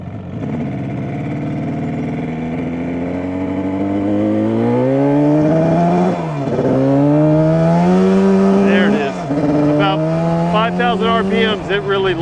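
A two-stroke motorcycle rides on dry roads, its engine revving loudly and rising steadily in pitch, dipping at two gear changes before climbing again, close and dominant throughout.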